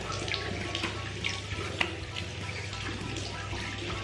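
Water splashes and runs onto a face to test LANEIGE Neo Cushion Glow makeup, a steady near splashing and trickling like a running tap, with small irregular splats throughout and no talk.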